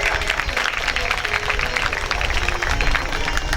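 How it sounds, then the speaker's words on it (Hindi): Loud, steady applause from an audience at a Hindu religious katha gathering, dense clapping sustained throughout without pause. "जोरदार तालियां बजा।"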